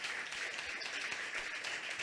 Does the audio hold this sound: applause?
yes